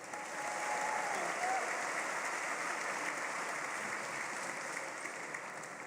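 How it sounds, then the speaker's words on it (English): An audience at an anniversary event for a political and cultural group applauds steadily for several seconds, a dense, even wash of clapping that carries on throughout. "So, big round of applause, Dominic Frisby."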